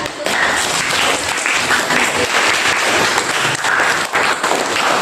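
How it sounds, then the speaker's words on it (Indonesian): Students in a classroom clapping together, a loud dense burst of applause lasting several seconds, with some voices mixed in. "beri tepuk tangan"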